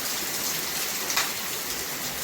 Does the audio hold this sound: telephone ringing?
no